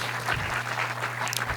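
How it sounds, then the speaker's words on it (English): Audience applause for two music grant recipients at a conference fills the room in a steady, even patter of clapping, with a low constant hum underneath and no voices. "give them a round of applause, please"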